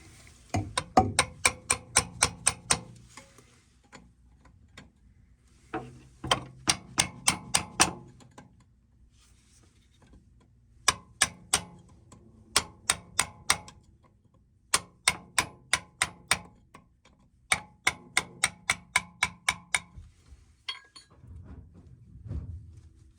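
Someone trims a lead joint on old plumbing with rapid series of sharp metallic taps, struck in quick bursts of about five to ten blows with short gaps between, close and crisp with no talk.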